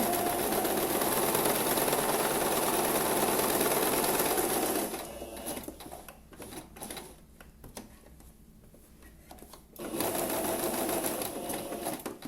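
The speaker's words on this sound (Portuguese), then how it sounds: "a agulha tem que ficar dentro da máquina para você poder, ó, movimentar o tecido" A sewing machine stitches fabric corners in a practice exercise, running loud and fast for several seconds, pausing into sparse clicks and handling noises while the cloth is turned, then whirring steadily again.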